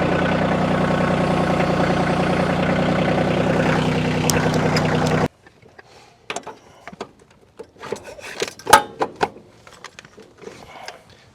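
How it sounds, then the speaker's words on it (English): A tractor engine idles with a steady low rumble, hooked up near a Japa 315 firewood processor, then cuts off and leaves scattered knocks and clatter of handling wood and gear. "Just time to hook up the tractor."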